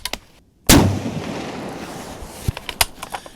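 A single loud, close shot from a restored 1942 Remington-made Springfield 1903 rifle firing factory ammunition at an outdoor range, a sharp blast followed by a long rolling echo and wind, with a few faint knocks afterward.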